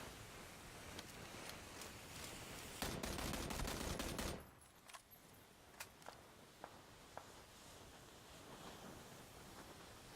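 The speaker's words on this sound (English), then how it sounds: "There's someone over there shooting at his dead body, it sounds like." Far-off gunfire crackles in a PUBG first-person match: a dense fusillade for several seconds cuts off abruptly, followed by a few isolated faint shots spaced apart over a quiet ambient background.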